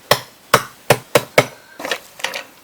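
Five heavy, sharp chops land at a steady pace on a cutting board as beef trotters are cut into pieces, then a few softer knocks and scrapes follow.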